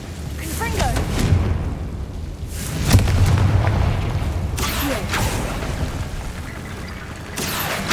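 Confringo blasting spell in Hogwarts Legacy going off as several booming bursts, the strongest around the middle, over a rumbling game soundscape.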